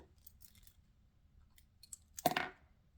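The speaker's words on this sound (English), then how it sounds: "snip it" A single crisp scissor snip cuts quilting thread at the end of a hand-sewn English paper piecing seam, close and clear after a near-silent lead-in.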